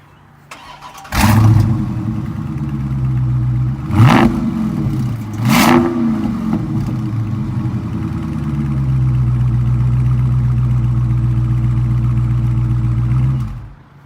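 A 2019 Dodge Charger R/T Scat Pack V8 cranks and fires up loudly nearby, gives two sharp throttle blips, then settles into a steady, rumbling idle that holds to the end.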